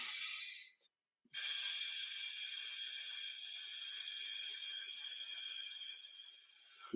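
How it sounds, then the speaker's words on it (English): One long, soft, airy exhale through pursed lips hisses steadily and close for several seconds, with a brief silent gap near the start, as part of a calming breathing exercise. "nice long exhale through pursed lips"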